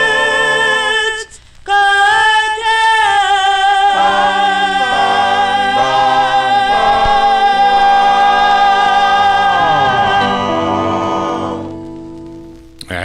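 A 1952 doo-wop ballad on King Records, with a lead singer over a backing vocal group. Sustained harmonised voices carry steadily throughout and fade out at the end.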